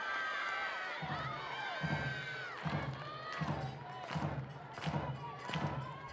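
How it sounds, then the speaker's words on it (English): Crowd at a college softball game between Tennessee and Mississippi State, a large home crowd cheering and clapping in rhythmic bursts, with rhythmic thumping and commentators' voices over it. "Huge crowd on hand here for the SEC opener for Mississippi State."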